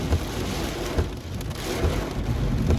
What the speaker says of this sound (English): Like, it's raining so bad. And it's thundering.